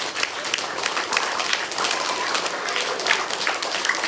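School assembly audience clapping together, a dense steady burst of applause from a crowd of children and staff in a hall, sustained for a few seconds at even loudness.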